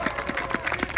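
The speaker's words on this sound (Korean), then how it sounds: "이럴 때는 격려의 박수를 부탁드립니다." An audience at a candlelight rally applauds, a short burst of quick, fairly faint clapping heard from a distance.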